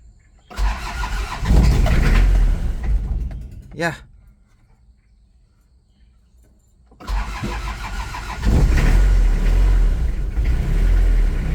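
A cold car engine cranks and fires after a long period parked, running loudly, then falling quiet before starting again and settling into a steady, rough idle.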